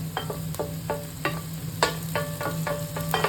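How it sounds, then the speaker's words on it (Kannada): Onion and tomato frying together in a pan, with a steady sizzle under repeated stirring scrapes and clicks; no one speaks. "ಈಗ ಒಣೆನ್ ಫ್ರೈ ಆಯಿತು ಈಗ ಟೊಮೆಟೊ ಹಾಕ್ತಾ ಇದ್ದೇನೆ"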